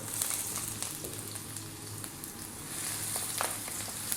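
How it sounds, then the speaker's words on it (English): Onion and ginger dropped into hot sesame oil over high heat, giving a steady, close, even sizzle with faint crackles throughout and no talking. "We're going to start off by dropping in our onion and our ginger."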